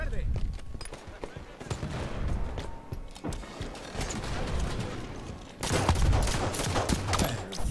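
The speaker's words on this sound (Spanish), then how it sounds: "¡Disparan en la torre verde!" Rapid gunfire in the video game Halo 5: Guardians during a multiplayer slayer match, dense crackling shots throughout, louder and busier near the end, with voices talking over it.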